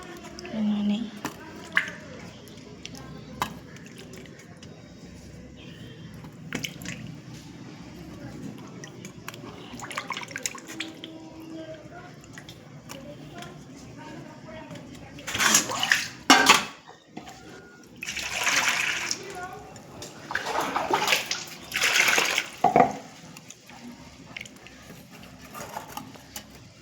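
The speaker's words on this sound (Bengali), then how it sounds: "ভালো করে ধুয়ে নিই আর একবার।" Tangra fish are rinsed by hand under running water. Soft handling sounds and a voice talking come first, then several loud gushing, splashing bursts of water close by.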